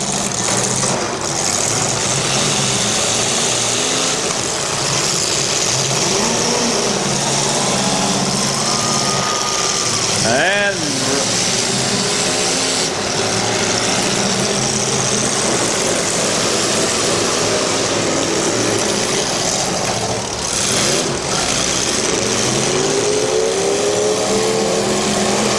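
Several demolition derby cars with their engines running at a 2009 county fair derby, a loud continuous engine roar with revving swells and occasional knocks, heard from the grandstand over the whole stretch.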